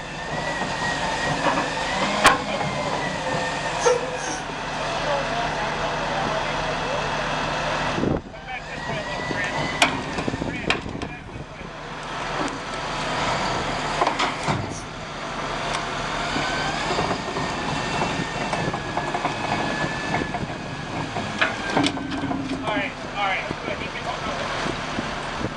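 An M-60A3 tank moves steadily in Wheatfield, New York, its heavy engine droning continuously with clanking and rumble, loud and close, while people talk over it at times.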